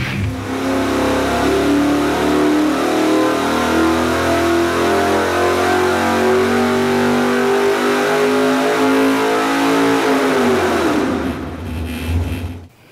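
Supercharged small-block Chevy stroker engine on a dyno, revving loud and steady with a deep harmonic roar that climbs and holds for about ten seconds, then drops off sharply to quiet.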